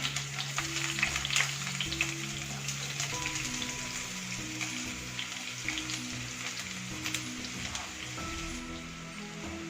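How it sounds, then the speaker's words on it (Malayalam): Sliced onions sizzle and crackle steadily in hot oil in a home kitchen, a dense, close frying hiss with occasional louder pops and faint background tones throughout. "അപ്പം ഞാൻ ഒരു സവോള നന്നായിട്ട് സ്ലൈസസ് ആയിട്ട് അരിഞ്ഞെടുത്തിട്ടുണ്ട്. അത് നമുക്ക് ഇതിലേക്ക് ഇട്ട് കൊടുക്കാം."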